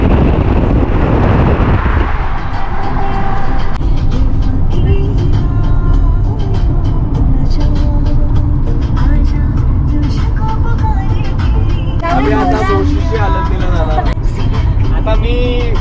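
A car drives along an expressway with a loud, steady roar of engine, road and wind noise filling the cabin throughout, and voices talking over it toward the end.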